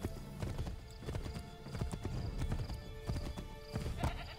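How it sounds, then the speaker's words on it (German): Rhythmic hoofbeats of a galloping horse in Assassin's Creed 3 clip-clop steadily up close, with an occasional whinny over a busy backdrop. "Steig wieder aufs Pferd"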